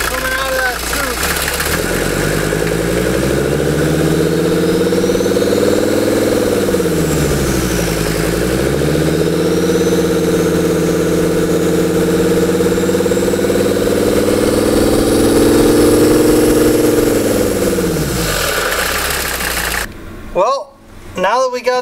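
A 1983 Mercedes 300TD's OM617 diesel idles steadily up close, revving briefly twice before settling back, with a faint squeal in the background before the engine cuts out near the end.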